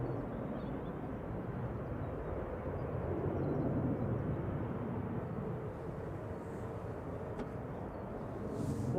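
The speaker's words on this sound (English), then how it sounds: "So that's Jet2 headed to Salzburg GGDFX" A Jet2 airliner on flight 889 to Salzburg roars steadily at Manchester Airport. The broad engine rumble holds at a constant level throughout and sounds moderately distant.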